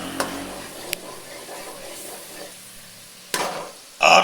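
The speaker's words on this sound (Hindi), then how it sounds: "इस सब को फ्राई कर लेंगे।" Coriander powder, turmeric and salt fry in a pan for palak chana dal, giving a steady soft sizzle close by, broken by a few sharp spatula taps and scrapes and a louder stirring burst at the end, with no talking.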